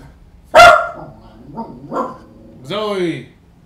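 A pet puppy lets out one sharp yap close by, then softer yips and a drawn-out whiny bark, alongside some voice sounds.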